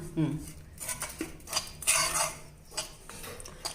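Ground pumpkin seed powder being mixed together in a metal vessel with a spoon, heard as a run of close, uneven scraping and clinking strokes, fairly quiet, with no talk.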